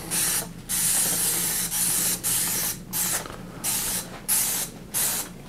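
Cleaner spray hisses onto a bicycle in about nine sharp bursts of roughly half a second each, separated by short gaps, close and fairly loud with no speech.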